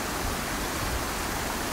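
Stream water at Tai Shing streams in Hong Kong pours into a pool, a steady, dense rushing wash with no break.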